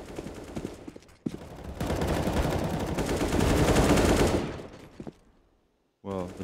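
Rapid automatic gunfire bursts from the video game CS:GO, dense and loud through the middle, with a few isolated shots before and a brief pause after.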